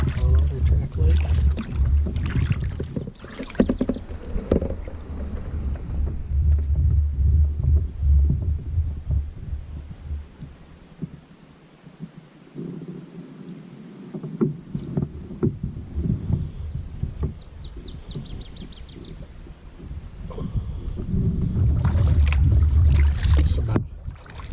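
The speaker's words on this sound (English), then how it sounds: "Do a little paddle through on Ottertrack Lake." A canoe paddled through shallow water on Ottertrack Lake in the Boundary Waters, with soft rhythmic paddle strokes and hull knocks, low throbbing rumble and wind, and a quieter stretch midway.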